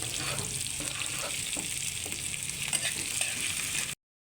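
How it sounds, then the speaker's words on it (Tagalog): Garlic, onion, cabbage and carrot sauté in a hot pan for sotanghon, a steady close sizzle with scattered scraping stirs and clicks, cutting off abruptly at the end. "Dito na rin ako magigisa sa pinagpilituhan ko guys"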